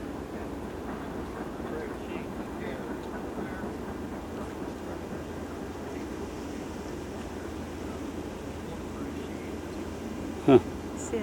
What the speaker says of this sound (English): And a railroad going across there.